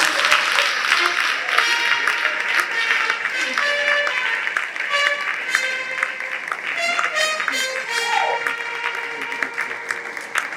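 A crowd at an agribusiness summit and expo claps to welcome the host, sustained applause with people talking and calling out over it throughout.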